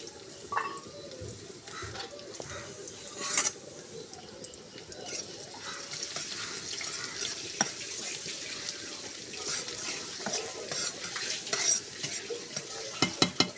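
Garlic, onion and dried chilies frying in oil in a pan, a steady quiet sizzle with scraping stirring strokes and occasional sharp clicks of the utensil.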